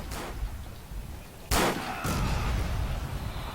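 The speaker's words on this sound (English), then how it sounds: "I'm not really a fan of that sound of the light machine gun that they have." Light machine gun fire in the video game Forgotten Hope 2: two sharp, loud bursts about half a second apart cut through a steady background of battlefield rumble.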